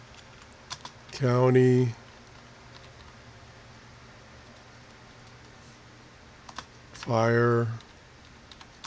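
A computer keyboard gives faint, scattered typing clicks. Two short bursts of voice from a scanner radio sound over them.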